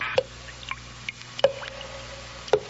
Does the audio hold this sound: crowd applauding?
no